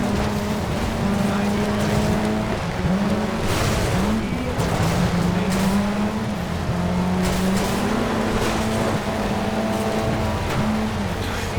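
Cosworth rally car in Shell Pilot livery, racing in Sega Rally Revo: a continuous engine drone whose pitch climbs and drops with gear changes, holding loud and steady throughout over a gritty, surf-like wash of tyre and road noise.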